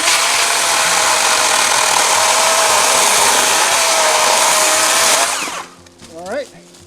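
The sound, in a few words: cordless power saw cutting, DeWalt FlexVolt battery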